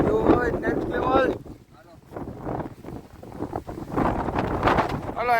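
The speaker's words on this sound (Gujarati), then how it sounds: "ફૂલ પવન આવે છે" Strong wind buffets the microphone outdoors in loud, uneven gusts that ease briefly in the middle, and people talk nearby through it.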